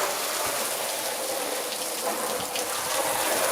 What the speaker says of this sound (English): I'm just going to quickly hose this side here